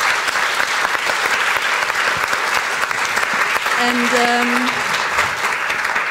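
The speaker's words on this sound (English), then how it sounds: "Big round of applause." A big round of applause from an audience at a Middle East Report event with an opera cast, dense and steady clapping throughout, with a brief voice and a short tonal sound rising over it partway through.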